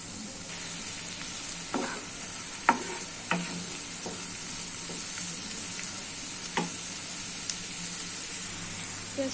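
Onions sizzle steadily in a pan for a fish dopiaza, with sharp scraping strokes of a stirring spoon breaking through every second or so. The frying hiss stays at a constant moderate level with no talking.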